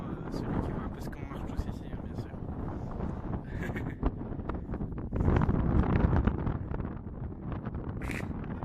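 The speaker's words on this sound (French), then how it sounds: "Beaucoup de vent." Strong wind roars and buffets the microphone continuously on a salt flat, gusting louder midway, with a voice faintly underneath.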